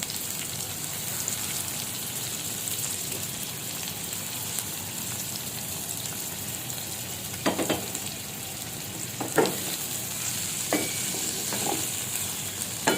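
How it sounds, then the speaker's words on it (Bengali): Chopped onions frying in hot oil, a steady close hiss like light rain with a few brief scraping stirs toward the end, no voices. "পেঁয়াজ কুচিটা পুরোপুরি দেওয়া হয়ে গেলে সেটাকে আমি নাড়তে থাকবো।"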